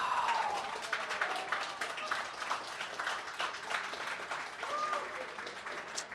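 Applause breaks out at a Star Wars X-Wing World Championships 2017 top-eight tabletop match, a dense, steady patter of many clapping hands that lasts throughout, with brief voices surfacing faintly within it.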